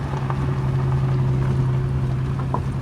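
On a desert road near Quartzsite, a vehicle's engine produces a steady, moderately loud hum with a low droning tone, holding constant throughout with faint wind noise.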